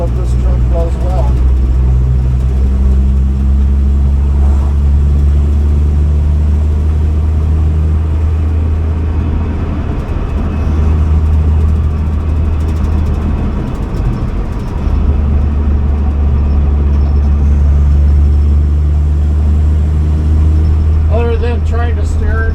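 A truck engine drones steadily with a deep low rumble as the vehicle drives along, loud and continuous throughout, with faint talk in the background.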